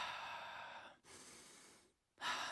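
A person demonstrates slow, controlled calming breaths: a long, steady exhale, then a short pause and the start of a fresh forceful breath, close to the microphone with no talking.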